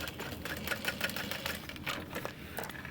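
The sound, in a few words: sewing machine stitching a backpack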